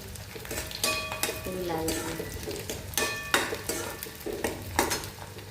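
Green chickpeas being stirred and fried in a pan with ginger-garlic paste, giving repeated scraping spoon strokes against the metal over a soft sizzle, close and moderately quiet, with no talking.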